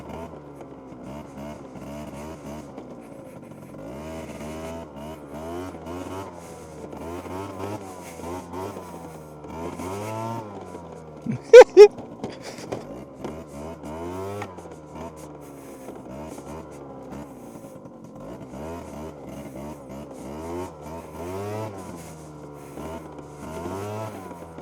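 A 23-year-old two-stroke scooter engine on a rough trail, buzzing steadily and rising and falling as the throttle opens and closes, with a couple of sharp clanks midway, heard close up throughout.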